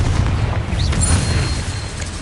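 A Confringo blasting spell goes off in Hogwarts Legacy, a loud, deep boom with a rumbling low-end body that fills the whole moment, a brief whistling streak of magic cutting across it.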